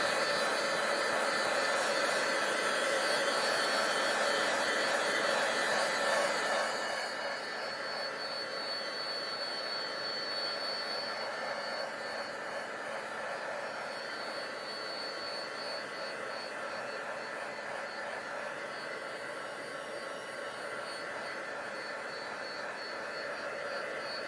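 Close, steady whoosh of a hair dryer blowing on a wet paper craft piece, loud and continuous throughout, with the airflow tone shifting slightly and dropping a little in level after the first seconds.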